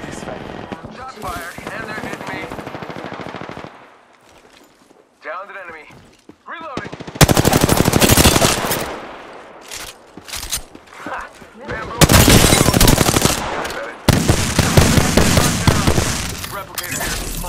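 Rapid automatic gunfire from Apex Legends comes in dense bursts, loud and near, separated by quieter stretches where voices speak.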